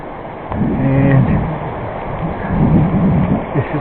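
Water rushes loudly alongside a narrow country road at a resort, a continuous rough roar with low rumbling surges, heard up close.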